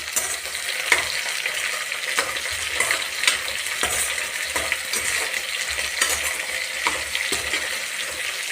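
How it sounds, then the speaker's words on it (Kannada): Chopped onion and curry leaves fry in a hot pan, sizzling steadily while a spoon stirs and scrapes at an uneven rhythm, close and clear. "ಈರುಳ್ಳಿ ಕರಿಬೇವು ಒಟ್ಟಿಗೆ ಹಾಕ್ಕೊಳ್ರಿ. ಇದನ್ನು ಹುರಿಯೋಣ ಚೆನ್ನಾಗೆ."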